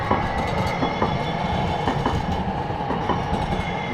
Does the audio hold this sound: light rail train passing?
yes